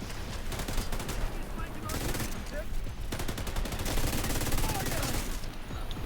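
Gunfire from a video game battle set in Brooklyn: dense, rapid bursts of shots and machine-gun fire roll on almost without pause, loud and close, with a busy noisy backdrop throughout.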